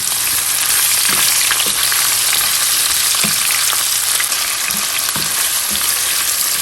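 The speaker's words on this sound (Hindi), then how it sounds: "प्याज भी हमें जो है वो ब्राउन नहीं करना" Two medium onions fry in hot oil in a pan for a creamy chicken malai kofta gravy, kept pale rather than browned: a loud, steady sizzle fills the whole stretch, with a few soft stirring knocks and no voices.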